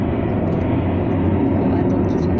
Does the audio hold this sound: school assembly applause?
no